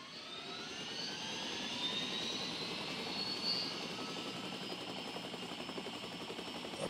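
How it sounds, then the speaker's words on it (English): A helicopter flies steadily through a survival video game, its rotor chop and turbine whine holding a constant, fairly loud drone with no voices. "I'm getting quite good at this pilot in the old helicopter"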